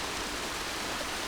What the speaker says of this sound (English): I just love the sound of running water.